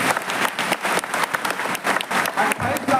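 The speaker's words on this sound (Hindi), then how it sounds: "आपके लिए एक बार जोरदार ताली हम सब लोग।" A crowd at a gathering of tribal community members claps in a brisk, uneven burst of applause, close and fairly loud, with faint voices mixed in.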